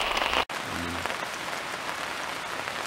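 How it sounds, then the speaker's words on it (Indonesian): Heavy rain starts pouring again outdoors, a loud, steady, dense hiss of drops drumming on surfaces that fills the whole stretch after a brief dropout. "Mulai lagi hujannya."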